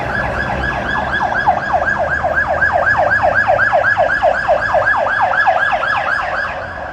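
A wailing emergency vehicle siren in New York City rises and falls in quick, steady cycles, loud and continuous throughout, with faint street traffic underneath.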